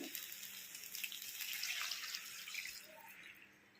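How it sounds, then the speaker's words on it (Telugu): Water streams and splashes into a cooking pot for a few seconds, a soft close pouring that thins out and fades near the end. "వాటర్ పోస్తున్నాం అందులో."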